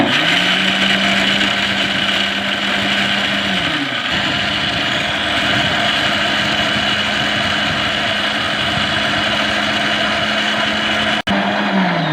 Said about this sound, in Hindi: इन तमाम मसालों को हम अच्छे से ग्राइंड करेंगे।